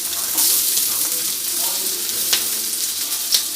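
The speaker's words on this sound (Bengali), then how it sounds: "এবার আমি এটাকে ভালোভাবে সব কটা আলু একটু একটু করে উল্টিয়ে দিলাম" Potatoes sizzle loudly in a hot pan after being turned, a constant crackling fry with a few sharp pops and scrapes, and no one speaking over it.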